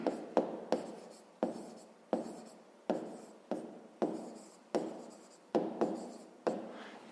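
Handwriting on paper while working a 5th-grade math exercise: a steady series of close, quiet pen or pencil strokes, about a dozen short scratchy bursts with brief pauses between, with no talking.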